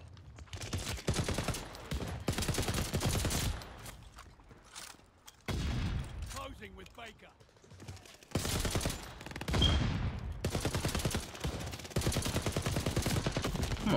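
Type 11 light machine gun in Call of Duty: Vanguard firing loud, rapid sustained bursts, several long strings of automatic fire broken by short pauses, up close.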